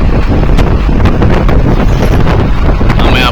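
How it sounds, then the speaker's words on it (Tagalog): Strong wind buffets the microphone in a constant loud roar, rumbling and gusting throughout. "sitwasyon ngayong umaga dito lakas ang hangin"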